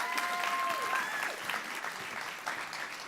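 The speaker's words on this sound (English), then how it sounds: "Give her a round of applause" An audience applauds as a woman is welcomed onto the stage at a food studies panel, giving a steady, moderately distant round of clapping that holds evenly for a few seconds, with faint crowd murmur underneath.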